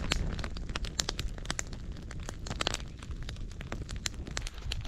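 Campfire burning under a grill outdoors while ice fishing in Newfoundland, with frequent sharp crackles and pops over a dense, rumbling roar that may include some wind against the microphone, nearby and fairly loud.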